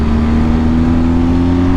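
A motorcycle engine holds a steady, close drone while the bike leans through a corner, its pitch nearly constant and even throughout.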